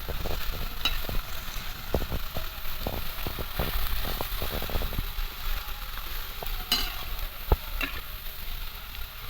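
Potato slices for chotpota-style evening snack chips frying in well-heated oil, a steady dense sizzle and crackle running throughout with scattered sharper pops and occasional utensil scrapes.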